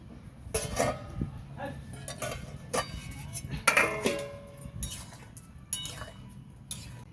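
Metal clinks and clatter as a cooking pot's lid is lifted to check meat boiling for meat khichuri, a few sharp knocks spread over several seconds against a low kitchen background.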